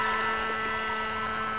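A small RC helicopter in RC Helicopter Simulator whines continuously at close range, a steady high-pitched motor buzz with no break.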